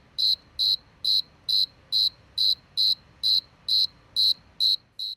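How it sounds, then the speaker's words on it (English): A cricket chirps in a steady, evenly spaced rhythm, about a dozen bright pulses against a quiet background. "then you guessed, crickets"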